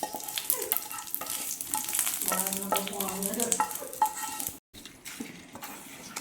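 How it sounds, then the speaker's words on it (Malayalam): For Kerala-style beetroot pachadi, mustard seeds, dried chillies and curry leaves hit hot oil, giving a busy close-up sizzle with popping and a few utensil clinks and stirs. A brief silent gap cuts in near the end, and no voices are heard. "കടുക് ചേർത്ത് പൊട്ടിക്കാം. വറ്റൽമുളക്, കറിവേപ്പില കറിയിലേക്ക് ചേർത്ത് കൊടുക്കാം."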